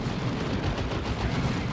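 Grenade blast and rattling gunfire from a Space Marines versus Orks battle in the strategy game Warhammer 40,000: Dawn of War 2, a dense, continuous rumble of shots and explosions.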